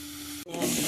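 Mustard seeds, cumin and garlic drop into hot oil. A steady hiss cuts off briefly, then bursts into a louder, fuller sizzle, close by.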